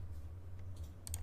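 A couple of quick, faint computer mouse clicks near the end of a quiet stretch of screen-recording audio over a low steady hum, with no talk.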